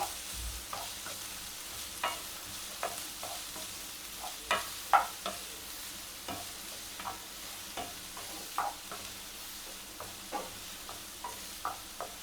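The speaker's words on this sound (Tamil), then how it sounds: "இப்போ இதை நல்லா கலந்து விட்டுடலாம்" Squid gravy, kadamba thokku, stirred in a pan with a spoon, giving a run of soft, evenly spaced scrapes over a low steady sizzle, quiet and close, with no voices.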